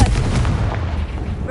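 A Confringo fire spell blast in Hogwarts Legacy: a sharp, booming burst at the start that trails off into a rumbling decay.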